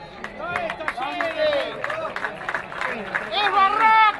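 Stadium crowd applauding a rival team, clapping and cheering under loud overlapping voices and shouts, the noise swelling toward the end.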